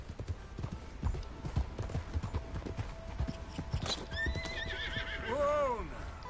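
A horse in Red Dead Redemption 2 clip-clops along in a steady, rhythmic gait, then lets out a loud, wavering whinny near the end, with voices talking over the hoofbeats.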